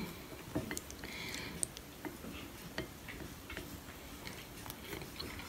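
Someone eats Sichuan-style cold pork tongue dressed in red chili oil and topped with chopped celery, giving soft close-up bites and chewing with small clicky mouth sounds over quiet room noise.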